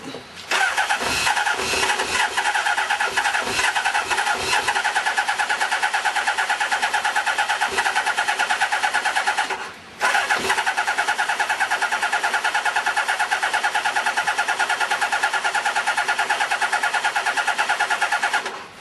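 A Kawasaki GPZ600R motorcycle, unrun for 18 months and on a jump starter with the choke on, cranks and fires into a loud, steady running engine, with a brief dip about halfway before it picks up again and carries on.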